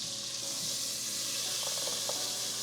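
A quarter cup of butter melts in an already heated pot, giving off a steady, close hiss of sizzling with faint crackles and no talking.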